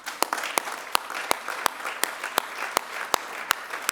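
Sparse, restrained audience applause at a Canadian competitiveness debate, a few sharp, evenly spaced claps standing out over a soft patter throughout.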